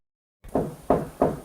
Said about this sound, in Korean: 두드리는 곳마다 소리도 제각각인 의문의 벽